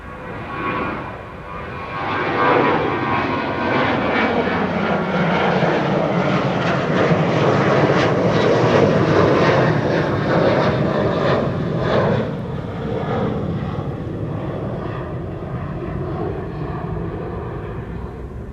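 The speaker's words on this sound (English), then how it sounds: "Ryanair on its way to Dublin" A Ryanair airliner departs for Dublin from Amsterdam Schiphol, its engines a loud, continuous roar that swells early, holds steady and fades only slightly as it climbs away, with no voices.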